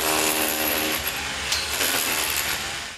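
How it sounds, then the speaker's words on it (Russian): Workers strip a 6–7 cm thick plaster facing from the walls of an apartment building, with cinder block behind it. Loud tools grind and chip continuously, close up, with scraping and rattling debris. "самый шумный и сложный этап – избавиться от облицовки толщиной в 6-7 сантиметров"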